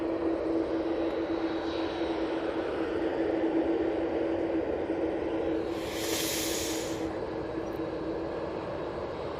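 A Jet2 Airbus A321neo jet airliner at Manchester Airport roars with a steady, heavy engine rumble and a thin whine. A brief high hiss swells midway through as it powers along the runway intersection, loud and continuous with no talk.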